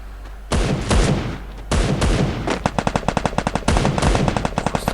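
Gunfire from the Free Fire battle royale game: loud bursts of heavy shots, then a rapid string of automatic rounds, another burst near the end, close and sharp with no talk.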